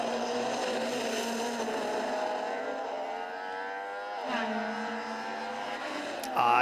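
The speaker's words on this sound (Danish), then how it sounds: "det er en af de klasser, der faktisk lyder bedre, når man hører bilerne komme imod sig" Historic touring race car engines at the 2023 Copenhagen Historic Grand Prix drone loudly as they approach, pitch shifting steadily, with a sharper burst near the end; continuous and close.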